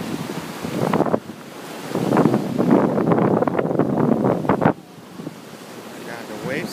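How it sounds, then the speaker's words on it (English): Ocean surf rolling onto a beach under strong wind, with gusty rumble buffeting the microphone and washes of water surging and breaking close by before cutting off abruptly. "Oh my god, the waves are here."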